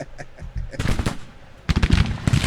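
Rapid crackling rifle volleys from Civil War repeating rifles in the strategy game Grand Tactician, dense overlapping shots in two bursts with a quieter stretch between, close and loud.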